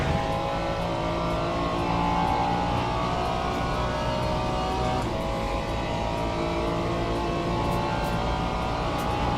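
Race car engine in a sim racing video game, a loud continuous roar with revving shifts that holds steady throughout, no voices over it.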